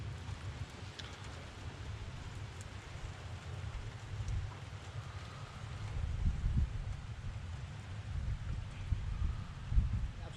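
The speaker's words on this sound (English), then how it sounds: "it's absolutely pouring down, and it's a bit windy out there as well" Steady heavy rain with a deep, blustery wind rumble outdoors near a bothy in the Northumberland/Scottish Borders hills, continuous and fairly loud, swelling slightly toward the end.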